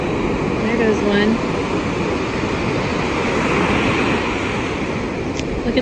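Big, rough ocean waves crash and rush ashore during a tropical storm, a steady loud roar of surf with wind and a whooshing surge, someone speaking briefly over it.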